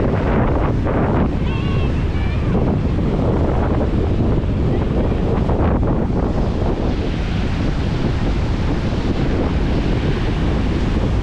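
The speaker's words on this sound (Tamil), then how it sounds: "வெறித்தனமாக அலை அடிச்சுட்டு இருக்கு." Strong sea waves crash and roar continuously at Thenneti Park beach in Visakhapatnam, with heavy wind buffeting the microphone throughout and a brief faint voice near the start.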